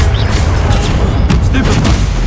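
Spell blasts in Hogwarts Legacy combat boom and crackle in quick succession, loud and dense, with voices calling out over the bursts.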